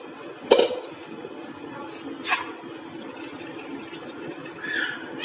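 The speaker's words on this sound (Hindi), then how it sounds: "इस तरह से हम एक साफ बर्तन लेकर इसमें एक छलनी रखेंगे और इसमें अपने गोश्त को पलट देंगे, मटन को।" Boiled mutton tipped from a pot into a sieve set over a clean pot in a kitchen: a sharp metallic clank, a second knock a little later, then soft clattering and liquid sounds at a low level.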